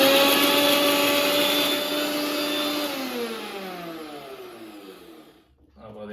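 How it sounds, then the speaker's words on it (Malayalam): A mixer grinder whirs loudly, grinding green chilli, ginger, coriander and curry leaves into paste, its motor pitch gliding downward as it winds down before a short restart. "മിക്സി റെഡിയാണ്."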